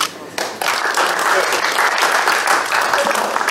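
Enthusiastic audience applause at an awards ceremony, a dense, steady wash of many hands clapping that swells after a brief quieter start and holds loud throughout, with faint voices mixed in.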